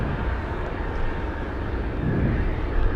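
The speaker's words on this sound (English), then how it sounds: "We have a C-17 descending right now into the Anchorage area." A C-17 cargo jet descending into Anchorage, a steady, broad engine roar at moderate distance, fairly even throughout with a slight swell near the end, heard amid gusty wind.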